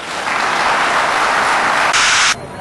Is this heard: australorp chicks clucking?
no